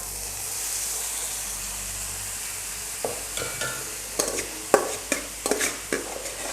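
Boiled Chinese potato (koorka) hits a hot pan with a soft, continuous sizzle, followed by a run of sharp clatters and scrapes as the pieces are tipped in and moved about.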